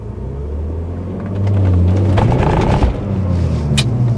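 A BMW E46 330ci with headers and cats launching hard on new tires, engine rumble rising loudly as the revs climb, with rough scraping wheelspin texture, heard from inside the car.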